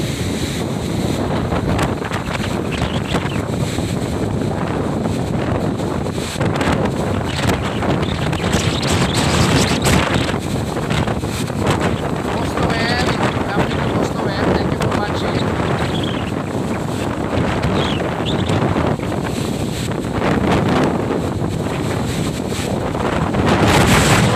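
Very strong wind buffets a boat at sea, a loud continuous roar of gusts and microphone wind noise over splashing waves and surf for the whole stretch, with occasional faint voices beneath.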